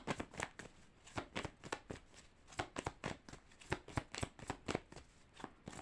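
A deck of tarot cards is riffled and cut by hand, a quick run of crisp, close flicks and slaps in an uneven rhythm, fairly quiet with no talking.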